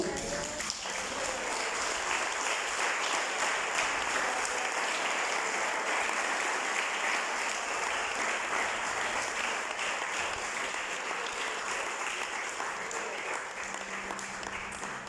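A church congregation claps together in sustained, dense applause that fills the whole stretch at an even level, with no speech over it.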